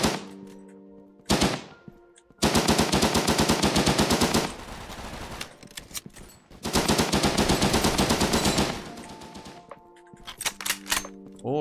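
Bursts of rapid automatic gunfire in the PvP shooter game Frontline Inferno, two long loud volleys separated by short gaps and sparse single shots, with no talk over them.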